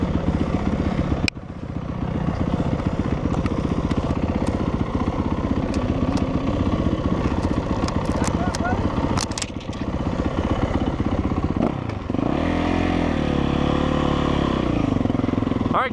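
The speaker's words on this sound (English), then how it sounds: "Trevor got his bike running, that's cool." A 2017 Yamaha YZ450F dirt bike engine runs loud and close for the whole stretch, a steady clattering idle with blips of revving, then a deeper, rougher throttle change near the end.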